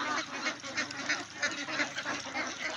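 A flock of two-month-old ducks quacking in the afternoon, a busy overlapping chorus of nasal calls kept up throughout at moderate distance.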